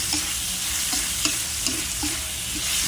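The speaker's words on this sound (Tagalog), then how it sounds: "Tapos, haluin natin." Chop suey stirs and fries in a pan, a steady oily sizzle broken by soft scraping strokes of the utensil roughly every half second, close and continuous with no talking.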